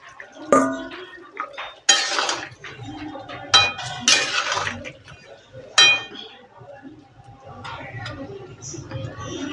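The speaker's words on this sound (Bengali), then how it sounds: "আমি ঢাকা খুলে দেখব আমার দু তিন মিনিট ফোটানো হয়ে গেছে আমি এবার মাছগুলো দেব" Metal pot lid clattering and clinking against a cooking pot as fish pieces go into a boiling cauliflower and potato fish curry, several sharp close clanks and scrapes spaced over a soft background.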